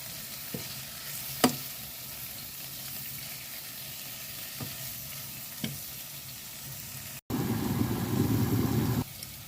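Onion and ginger fry steadily in a pan for a tuna fish curry, with a few sharp scraping stirs, then tomatoes drop in and set off a louder, thicker sizzle for about two seconds before it fades.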